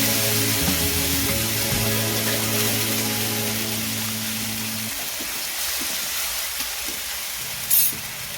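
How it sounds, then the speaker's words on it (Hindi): Paste stirred into a simmering white gravy for methi malai paneer in a pan, a steady broadband sizzle with low stirring hum that quiets partway through, ending with a brief louder scrape or clatter. "अब जो हमने पेस्ट बनाया था वो इसमें ऐड करेंगे।"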